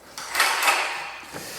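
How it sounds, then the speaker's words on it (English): Drawers slide open and shut as someone rummages through them, giving a broad scraping, rustling sound that rises and falls over about a second and a half, close by and fairly loud. "He's just going through every single drawer."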